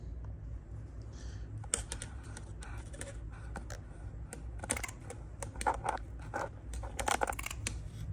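Scissors snip repeatedly while a butterfly breeding jar made from a pretzel jar is prepared, giving a close, uneven run of sharp cutting clicks and crunches with no speech.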